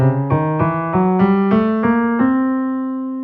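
Jazz chords struck in a steady sequence of eight attacks while the bass climbs through alternating half and whole steps of a diminished scale, each chord ringing briefly before the last one sustains and fades.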